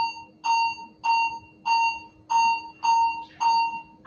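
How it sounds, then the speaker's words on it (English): An AED trainer's timer sounds a steady train of seven identical electronic beeps, evenly spaced about half a second apart, loud and clear over a faint constant hum. "A timer will start now."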